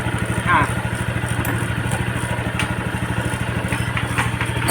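A Yamaha Sight 110 motorcycle engine, freshly fitted with a new con-rod and side bearing, idles steadily nearby, a low rhythmic putter with faint clatter and occasional light background noises.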